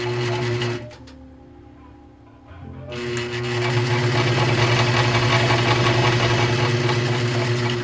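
A sewing machine whirs steadily while stitching a t-shirt hem, stopping briefly before starting again at a faster, sustained run, close and clear.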